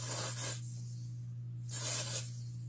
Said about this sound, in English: So you get one of their humidity sprays.